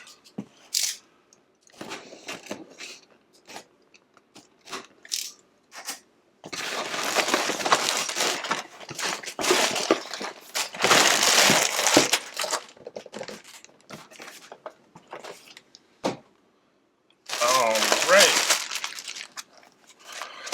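Cardboard box packaging for a LEGO Transformers Soundwave set (10358) being torn and opened, with crinkling and crunching in several loud bursts, interspersed with quieter handling noises and occasional speech.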